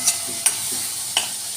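Tomatoes and onions cook in a pan for tomato bhaji, with a constant hissing sizzle broken by a few brief stirring clinks. No one speaks.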